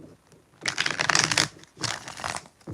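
Tarot cards are shuffled close by in two quick riffling bursts with a short pause between them.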